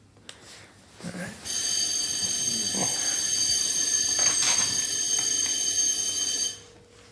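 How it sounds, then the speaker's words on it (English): A building fire alarm under maintenance testing blares a loud continuous electronic buzz for about five seconds before cutting off, with a brief muffled voice at the start and room noise around it. "Fire alarm testing maintenance."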